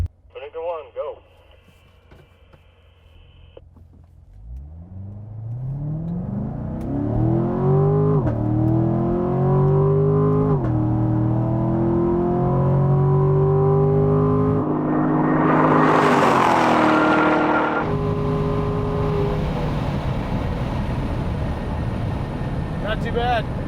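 A Corvette Stingray accelerates hard toward about 160 mph, its engine rising in pitch through several gear changes, loud and close from inside the car, with a rushing surge of wind and road noise near the top.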